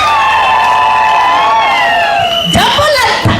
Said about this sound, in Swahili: Vigelegele.